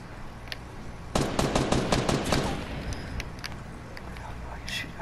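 A rapid burst of Fortnite gunfire, about eight or nine sharp shots in quick succession, loud and close, then tapering into scattered game sounds.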